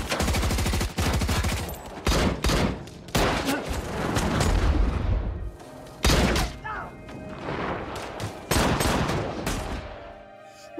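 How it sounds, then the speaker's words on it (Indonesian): Gunfire in a shootout scene from the film Cold Pursuit: bursts of automatic fire and heavy thumping shots come in repeated loud volleys separated by brief lulls, with rattling impacts between them. "aksi tembak-tembakan pun terjadi"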